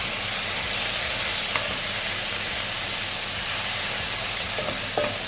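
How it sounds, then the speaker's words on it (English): Chicken lasagna filling of chicken, vegetables and olives sizzles steadily in a pan while being stirred, producing a loud continuous frying hiss with a couple of faint scraping clicks of the spoon. "Stir it again."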